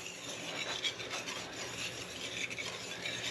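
Scone batter for lemon blueberry scones is mixed in a bowl, giving a steady close scraping and rubbing texture of utensil against bowl, continuous and fairly quiet with small rhythmic swells and no talking.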